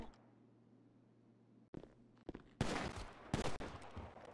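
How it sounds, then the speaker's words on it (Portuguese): Gunfire crackles in a GTA 5 police mod as a shootout breaks out inside a hotel, several loud bursts of shots following a quiet stretch with a low hum. "Eita, galera. Tiro, tiro."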